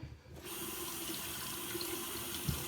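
A razor is rinsed under a running tap, a steady close stream of water splashing into a sink for a few seconds with no talking.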